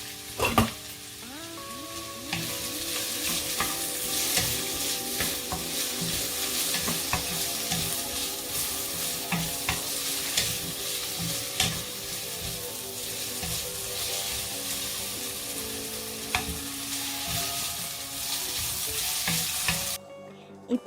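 Carrots and onions stir-fry in a hot pan for a vegetarian spring roll filling, a loud, continuous sizzle with scraping stirring strokes running for about twenty seconds before cutting off abruptly.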